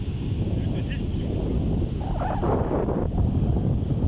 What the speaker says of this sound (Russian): Брюхо тебе, ветрюга дует,